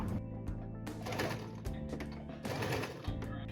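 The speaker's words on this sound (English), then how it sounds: "And then sew all the way around, only on this like sew here." A sewing machine stitches a qipao seam in close, loud bursts of rapid mechanical whirring, broken by short pauses between runs.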